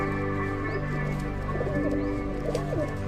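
Pigeons kept in a loft coo softly at close range under a steady low hum, with a few brief chirps and low throaty calls rising over the background.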